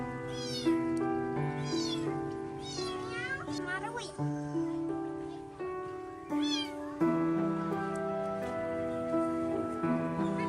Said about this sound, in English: This little monkey couldn't stand to watch a frightened kitten calling for help.